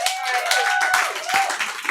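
A crowd at a stand-up comedy showcase applauds, scattered claps rising into a dense burst over a steady hum of talk and chatter in a lively room.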